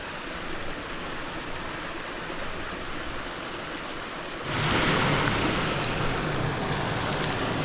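Fast water rushes at the head of a pool on a Dartmoor stream, a steady broadband roar that swells noticeably louder partway through, with no voices.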